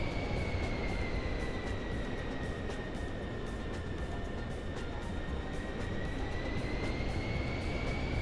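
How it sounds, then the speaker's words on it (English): A PC-24 jet in flight in Microsoft Flight Simulator 2024 gives off a steady, faint cabin drone with a constant high whine. "We're flying the PC-24."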